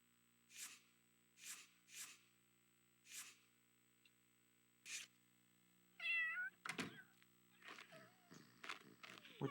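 A cat meows repeatedly in a home, several short evenly spaced calls near the microphone, followed by rougher cries and rustling noises at the end.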